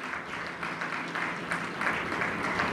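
A church congregation claps in praise, steady overlapping applause of moderate loudness that carries on throughout without a break.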